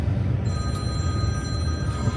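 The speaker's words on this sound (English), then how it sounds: "the phone's ringing." Telephone bell ringing in a quiet room, a thin steady electronic trill sustained over a low background hum, no voices present.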